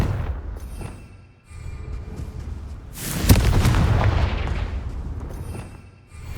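A booming blast from the Confringo fire spell in Hogwarts Legacy, a sudden loud explosive hit followed by a rumbling roar that trails off over several seconds, with game combat noise before it.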